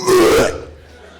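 A voice imitates gagging and coughing, like a cat hacking up a hairball, in one short, loud, strained retch that trails off into faint crowd noise at a stand-up comedy show.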